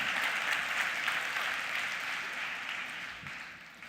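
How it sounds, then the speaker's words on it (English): Audience applause for the organizers and staff at a HeartMath talk: steady, dense clapping from a large crowd that holds evenly and tapers slightly toward the end, with no voices over it. "So a round of applause and appreciation for everyone that's there."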